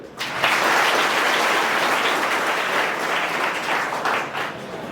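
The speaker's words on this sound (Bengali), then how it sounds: "একটা জোরে করতালি দাও" A loud round of applause from an audience at a ceremony honouring cadets, dense sustained clapping that begins abruptly and carries on steadily to the end, with no voices.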